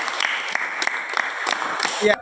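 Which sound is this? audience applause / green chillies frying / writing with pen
audience applause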